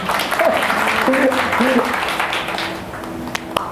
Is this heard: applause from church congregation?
yes